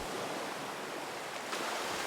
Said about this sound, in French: Le ressac des vagues, régulier, apaisant, comme un battement de cœur de la terre.